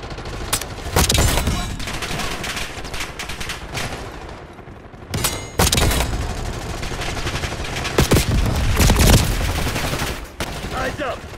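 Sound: gunfire in Black Ops 6 video game

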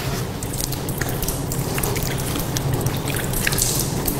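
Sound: water poured while washing the feet during ablution

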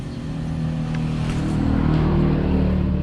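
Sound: Yamaha YTX 125 motorcycle starter and engine

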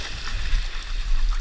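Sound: water dumped out of a calf hutch

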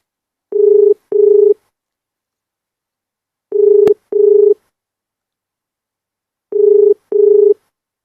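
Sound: telephone dialing tones while calling a police officer

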